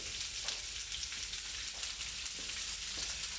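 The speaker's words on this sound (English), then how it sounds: "I'll get the pan nice and hot, and then I'm going to pass my onions" Onions frying in a hot oiled pan, a steady dense sizzle of crackling oil holding at an even level throughout with no voices.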